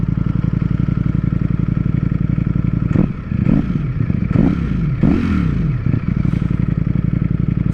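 A 2020 Ducati Streetfighter V4 S with its stock exhaust idles with a rapid, steady throb, then takes several sharp throttle blips in quick succession before settling back to a loud, even idle, close by with no talk.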